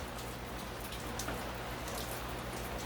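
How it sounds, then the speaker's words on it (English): Steady heavy rain pouring down, a dense continuous patter of drops hitting surfaces close by, with no voices. "it is pouring rain"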